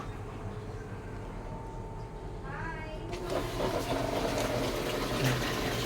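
Samsung automatic washing machine taking in water, a steady rushing fill that swells louder about halfway through, with a low pump-like hum underneath; faint talk is mixed in.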